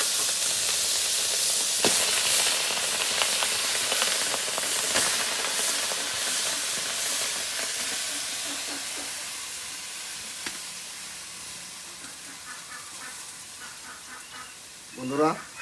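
Poppy seeds and a hill fruit frying in a pan give a steady close hiss and sizzle that slowly fades, with faint clinks and a brief louder burst near the end.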